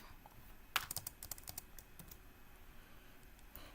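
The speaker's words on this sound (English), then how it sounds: "So I'm going to keep typing here." Quick bursts of keyboard typing, a run of crisp clicks in the middle, then lighter scattered keystrokes over a quiet background.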